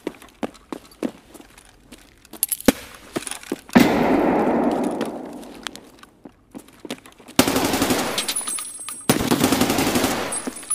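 Gunfire in the shooter game Escape from Tarkov: sharp single shots and short bursts, then loud sustained automatic fire and explosive blasts, with footsteps between volleys.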